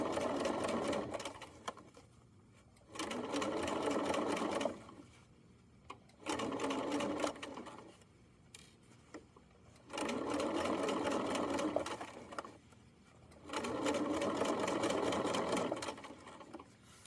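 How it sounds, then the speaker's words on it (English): A sewing machine topstitches a fabric seam on a fanny pack's bottom panel. It runs in four steady bursts of about two seconds each, with short quiet pauses between them while the fabric is adjusted. "I'm kind of just pulling my two pieces of fabric apart because that helps my seam lay even more flat, which will look really nice with my top stitching"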